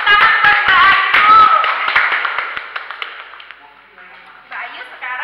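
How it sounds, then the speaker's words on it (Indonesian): A small group in a nursing group-therapy role play claps hands in a quick, sharp burst that thins out and fades over a few seconds, with voices mixed in. "Tepuk tangan buat Mbak Ayu."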